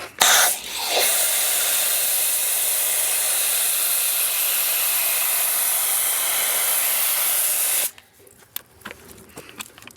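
Adamax rust inhibitor is sprayed in one long, steady, loud hiss onto a brake rotor on a Rivian R1T pickup for about seven seconds, then cuts off, leaving faint handling noises.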